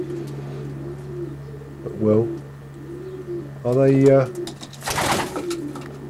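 Racing pigeons bred from long-distance families coo in a few throaty bursts, fairly close, with people talking between and over them.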